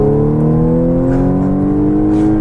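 A 2014 Audi S4's supercharged engine accelerating, heard up close as a loud, smooth, steadily rising drone with no talking.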